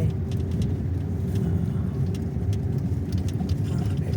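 A car rolls slowly along a slippery road toward Wang Takrai waterfall in Nakhon Nayok, its engine a steady low hum with road rumble and no talk.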